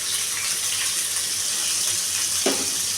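Chopped onions fry in hot oil with curry leaves, giving a continuous bright sizzling hiss at moderate level, with a short clatter or splash near the end.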